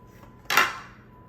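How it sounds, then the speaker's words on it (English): Pork schnitzel being dredged in an egg mixture, heard as a single short clink of a utensil against a bowl, bright and close, then fading quickly with no voices. "We're gonna dredge it in the egg mixture. Just coat it a little bit."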